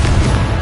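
A Confringo blasting curse bursts in a Harry Potter video game, a short, loud, booming explosion that fills the whole moment with a heavy low-end thump and no pause.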